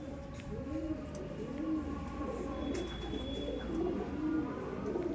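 Tournament racing pigeons in a loft coo steadily in a low, rolling chorus, several birds overlapping in repeated throaty phrases close by, with a faint high chirp now and then and no talking.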